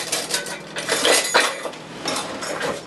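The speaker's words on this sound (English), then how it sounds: "I'm just going to scoop all of the center out, all the seeds" A spoon scrapes and scoops seeds and stringy pulp from the hollow of a home-grown garden pumpkin, giving close, repeated scraping and clinking strokes with no talk.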